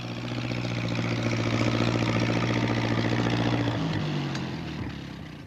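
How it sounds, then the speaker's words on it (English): A tractor engine runs with a loud, low, steady drone that shifts pitch downward near the end as it moves off, with faint background sounds. "He's going to try to get through with his tractor."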